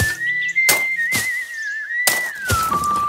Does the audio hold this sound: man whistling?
yes